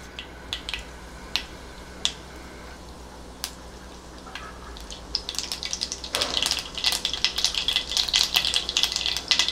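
Mustard seeds crackling in hot oil in a kadai, starting as scattered sharp pops and building into a dense, continuous spattering crackle, close and lively, with no talk.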